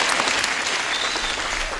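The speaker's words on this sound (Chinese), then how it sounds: "掌声是需要的" An indoor group bursts into applause: dense, even clapping that carries on steadily throughout, with no voices.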